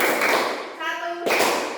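A class of children claps together in a counted pattern of two, three and one, with sharp taps in short bursts close by, then a short pause before more claps.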